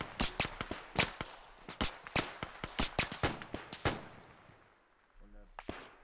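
MP40 submachine gunfire in the Arma 3 video game, a rapid string of sharp cracking shots over about four seconds, then a pause and a few more faint sounds at the end.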